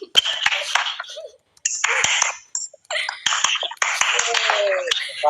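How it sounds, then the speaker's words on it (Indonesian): An audience at an informal evening talk session claps in several separate bursts with short silent gaps between them, fairly close, with a little laughter mixed in. "Tepuk tangan dong"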